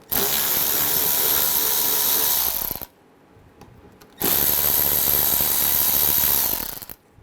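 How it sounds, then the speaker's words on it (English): Ratchet driving an 8mm socket to remove bolts on a BMW 535i xDrive 3.0L L6, two long bursts of fast, loud mechanical ratcheting separated by a brief quiet pause, close by and without speech. "Remove this panel, use an 8mm socket, take these two bottom bolts out."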